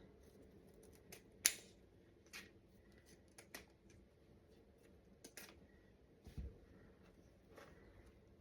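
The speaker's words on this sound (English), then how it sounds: "I'm going to cut the tails with my pinking shears." Pinking shears snip through the tails of a wire ribbon bow: a few crisp, quiet cuts spaced irregularly over a soft background hush.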